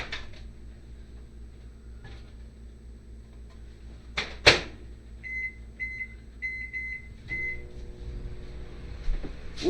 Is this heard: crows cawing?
no